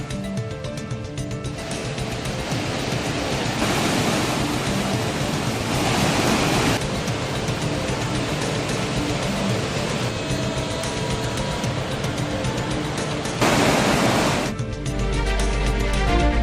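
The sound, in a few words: water roaring down the Hogenakkal waterfalls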